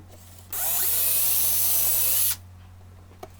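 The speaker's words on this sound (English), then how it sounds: "Simply drilled the holes out" A power drill whines steadily for about two seconds as it drills screw holes in a hanging bird feeder, then stops, leaving a faint hum and a small click.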